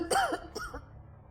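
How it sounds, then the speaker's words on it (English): A woman coughs into a handkerchief, two short hoarse coughs close up, the first stronger than the second, then quiet. "coughed into her handkerchief."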